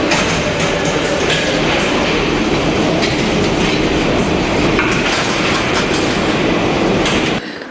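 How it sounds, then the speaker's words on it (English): A Paris metro train rides loud and close, with a steady rumbling roar and rhythmic wheel clatter throughout that cuts off abruptly at the end. "But when you get in the metro"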